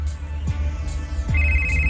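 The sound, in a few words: mobile phone ringing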